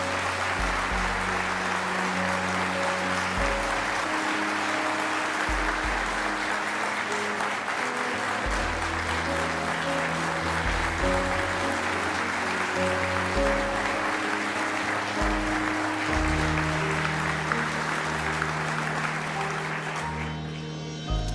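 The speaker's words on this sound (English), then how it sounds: "Yeah, you can clap for that." Sustained audience applause at a Medal of Honor recipient's speech, a steady, dense wash of clapping that continues throughout and fades slightly at the very end, with no voices over it.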